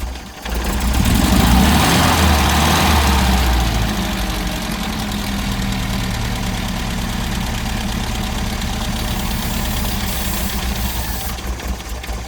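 Close, continuous idle of an Innocenti twin-carburettor engine with vacuum leaks, an early swell of broadband hissing over the rumble, then a steady, uneven mechanical throb for the rest of the clip.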